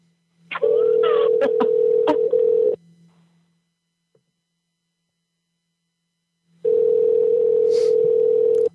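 A telephone rings in two long electronic bursts separated by several seconds of silence, loud and close.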